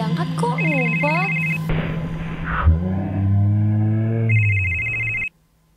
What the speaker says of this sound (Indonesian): Telepon bunyi bukannya diangkat kok ngumpet.